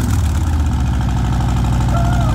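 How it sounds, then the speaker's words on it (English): A Harley-Davidson motorcycle with a 114 cubic inch engine runs close by, a loud, steady throbbing rumble with a slight rise in pitch toward the end, heard alone. "Give it a rev."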